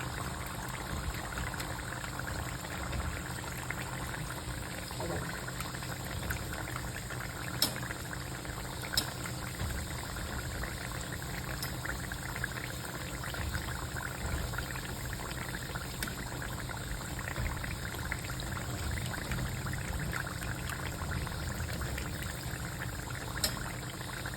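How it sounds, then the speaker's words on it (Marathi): Small streams of hot oil are poured over anarsa sweets frying gently on a low flame in a wide pan, giving a steady, soft bubbling and seething hiss that runs on evenly, with occasional faint ticks and no talking. "असं धाऱ्याने थोडं थोडं तेल त्याच्यावर टाकायचं गरम"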